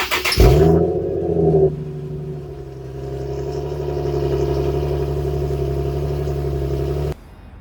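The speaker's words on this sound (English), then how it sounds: "right now I'll play you how the car sounded stock" An Infiniti G37's stock exhaust fires up with a brief rev, then settles into a steady, low, raspy idle before cutting off.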